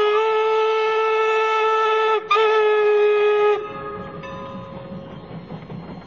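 A Strasburg Railroad train passing the Caboose Motel sounds a long, steady multi-tone whistle with a brief break, then gives way to a lower rolling rumble of the cars as the whistle cuts off.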